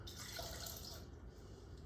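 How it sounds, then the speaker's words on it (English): Water, about three-quarters of a cup, poured into a Mexican chicken bubble-up casserole mixture made with salsa, giving a steady, soft splashing pour that runs throughout at low level. "And about 3/4 cup of water."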